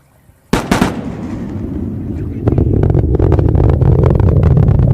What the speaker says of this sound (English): Sonic boom.